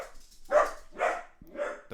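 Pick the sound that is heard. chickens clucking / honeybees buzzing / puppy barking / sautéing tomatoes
puppy barking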